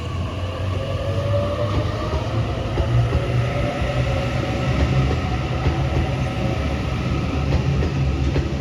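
A Sydney B8 passenger train pulls out of a station platform, a steady rumbling roll of wheels on track with faint clicks and a high electric whine, moderately close and continuous with no voices.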